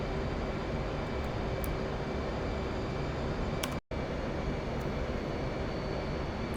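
Steady, loud engine roar of an F/A-18 jet cruising back toward Al Dhafra Air Base in the DCS flight simulator, a constant wash with one very brief dropout partway through.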